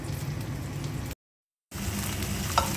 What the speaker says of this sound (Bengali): মাছের মাথাটা কড়া করে ভেজে নেব।